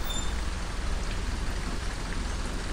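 Steady, even rainfall hissing continuously in the OMSI 2 bus simulator game, a dense wash of drops pattering on a Marcopolo Torino 2014 bus with no voices.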